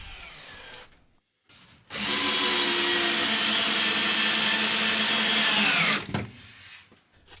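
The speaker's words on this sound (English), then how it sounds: "I'm only screwing into the frame that's on the inside" Screws are driven into an inner wooden wall frame with a drill, as one loud, continuous whirring burst of about four seconds, close by, after a short quiet stretch.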